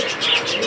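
Australian white ringneck dove giving a brief soft coo, close and alone with no talk.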